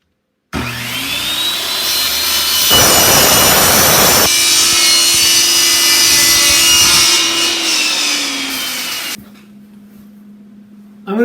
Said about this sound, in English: I'm going to cut my pipe with a table saw